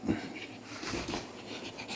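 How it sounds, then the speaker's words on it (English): Two dogs, one fat and one skinny, snuffle, snort and pant close by in short wheezy bursts, with no one talking. "The fat dog and his friend, the skinny dog."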